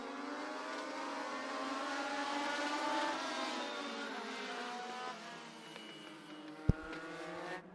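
Legend race cars racing at Atlanta Motor Speedway, a pack of engines roaring steadily at full throttle, swelling then easing slightly as they pass, ending with a sharp knock.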